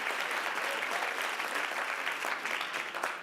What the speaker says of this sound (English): These are applause lines,